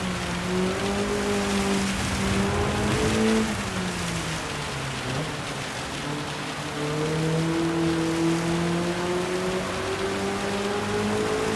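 Rain during a wet race at the Nurburgring in Gran Turismo 7: a steady hiss of rainfall under a race car engine whine that rises and falls through gear changes.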